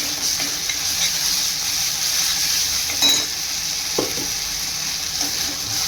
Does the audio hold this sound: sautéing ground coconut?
yes